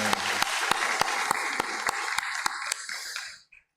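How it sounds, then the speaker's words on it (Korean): A church congregation claps in unison, about a dozen sharp rhythmic beats over a wash of scattered applause, before stopping abruptly. "하나님께 감사의 박수 올려드리시겠습니다"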